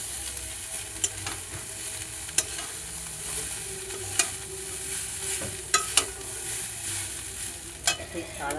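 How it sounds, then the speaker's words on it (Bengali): Chow mein noodles and spices are stirred and fried in a pan at home, giving a soft, steady sizzle with scattered sharp scrapes and clicks of the utensil, fairly quiet and without voices. "তো এতে সব মশলা টসলা দিয়ে দিচ্ছে আর চাউমিনটা দিয়ে দিচ্ছে। একে ভালো করে নাড়তে হবে।"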